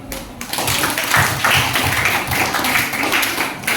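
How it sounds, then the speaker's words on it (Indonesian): A junior high school class in Pangururan claps together in a loud, steady, rhythmic round of hand claps filling the classroom. "Bagus, tepuk tangan dulu."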